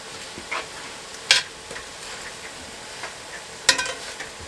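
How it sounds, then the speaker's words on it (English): Green and red peppers, onions and garlic fry in a cast iron pan, giving a soft steady sizzle with a few sharper stirring scrapes, heard fairly faintly with no talking. "green pepper, red pepper, and onions are on there with the garlic. We're going to cook that down until the onions are translucent."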